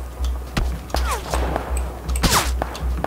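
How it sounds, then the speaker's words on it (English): Gunfire in PlayerUnknown's Battlegrounds: a string of sharp, distant-sounding shots cracking at irregular intervals, roughly a dozen over a few seconds, over a steady low hum. "Oh, I'm being shot at"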